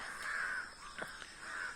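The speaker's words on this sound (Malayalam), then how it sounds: "കാക്കകളൊക്കെ ഫുള്ള് ആവേശ പുറത്താണുള്ളത് കുറെ കാക്ക" Several crows caw excitedly outdoors, giving repeated harsh calls that are moderately distant and clear, with no talking.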